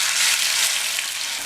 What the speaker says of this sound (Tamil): இந்த புளிக்கரைசலை சேர்த்துடலாம்.